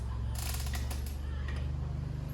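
A wrench ratchets and tightens a part during a Wildcat repair, a burst of quick metallic clicks over a constant low engine-like hum, close by with no speech.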